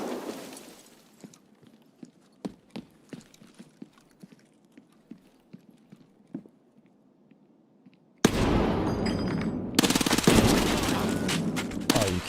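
Scattered sharp cracks in Escape from Tarkov: sparse single shots and impacts, then a sudden loud, dense roar of sustained heavy 50 cal machine gun fire close by, with no talking.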